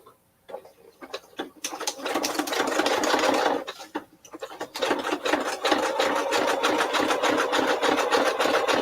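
A manually operated sewing machine stitches fabric for a zippered fat quarter project bag, running in rapid, even bursts after a few short starts, loud and close.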